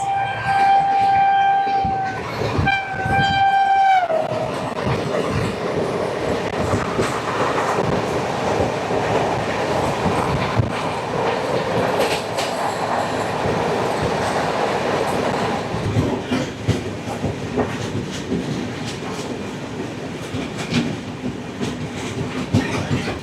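A WAG-9 electric locomotive hauls freight wagons loaded with JCB machines, opening with a loud two-tone horn blast, then a steady close rumble and clatter of wheels over rail joints continuing to the end.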